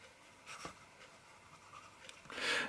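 A pen scratches across paper in a pocket notebook in a few soft strokes, quiet and close, ending in a slightly louder rustling swipe.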